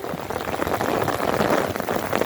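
Heavy rain pours down on the street in Antakya, Hatay, as a dense, steady patter close by with no break across the whole short stretch.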